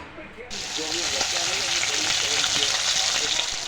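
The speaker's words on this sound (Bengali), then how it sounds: "আমি এদিকে মাছ ভাজি" Fish frying in a pan in a small home kitchen, a steady broadband sizzle that starts abruptly and holds loud and continuous, with a voice talking faintly underneath.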